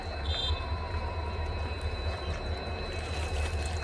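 A lone railway locomotive engine standing on the track, a steady low idling rumble with a faint high whine above it, continuous and fairly near, no talking.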